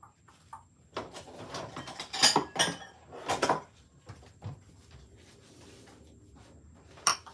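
Small bowls and dishes handled in a home kitchen: a few sharp ceramic clinks and knocks in quick succession, scattered rattles and a final bright clink, fairly close with quiet pauses between.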